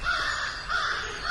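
A crow caws repeatedly in an outdoor Georgia woodland during a turkey hunt, two drawn-out harsh calls at moderate distance standing alone against quiet background.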